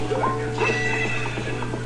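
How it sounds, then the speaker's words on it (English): Epona the horse neighs in the Zelda Ocarina of Time video game, a game-audio whinny with short rising cries over a steady hum and background game music, filling the clip at moderate loudness. "Last episode, we got Epona."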